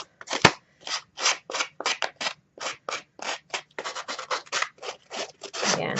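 Scissors blades scraping along paper edges to distress junk journal pages, in quick repeated strokes, a steady scratchy rhythm up close with brief pauses between strokes.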